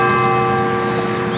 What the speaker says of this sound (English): We'll let the chimes go first here.